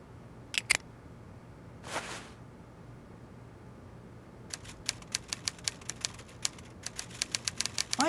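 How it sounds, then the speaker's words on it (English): Typewriter typing in an Agatha Christie: Evil Under The Sun video game: a few isolated clacks at first, then a quickening run of crisp keystrikes heard from nearby, as if behind a door. "he seems to be typing up quite a storm"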